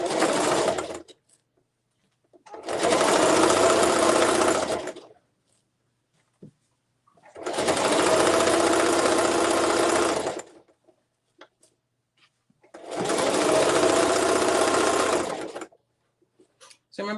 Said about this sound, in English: I'm going to sew all the way down because this one is the interface side.